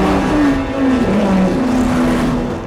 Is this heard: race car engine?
yes